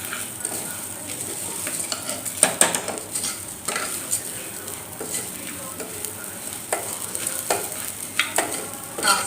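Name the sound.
dal and whole green chillies frying in a pan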